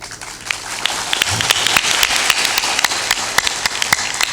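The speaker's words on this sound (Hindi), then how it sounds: "जोर से ताली बजाया करो" An audience at a spiritual discourse claps their hands in brisk, loud applause, with sharp individual claps popping out above the continuous patter as it builds and holds.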